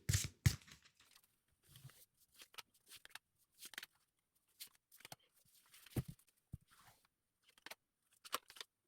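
Tarot cards are drawn from a deck during a reading: quiet, sporadic papery flicks and rustles with long silent gaps between them.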